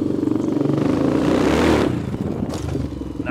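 Honda XR400 dirt bike engine revving loudly up close during a wheelie, a steady buzzing roar that swells and then drops off with some rattling clatter near the end.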